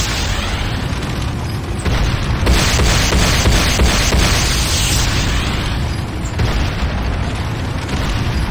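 A Nod power plant comes under attack in the Renegade video game, with loud, continuous explosions and booming blasts overlapping into a dense, roaring barrage that surges and recedes over several seconds.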